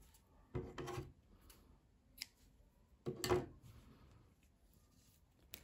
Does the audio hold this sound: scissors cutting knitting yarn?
yes